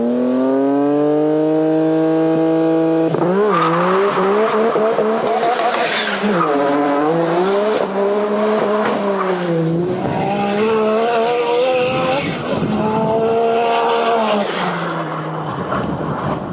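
A JUN-tuned R33 Nissan Skyline accelerates hard on a drag strip, its loud engine note climbing through rising, falling gear-change sweeps with tire squeal over about sixteen seconds, close and dominant.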